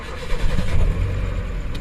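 A car engine starting up at night on a muddy forest track, a low rumbling crank settling into a steady idle, close and fairly loud with no talking.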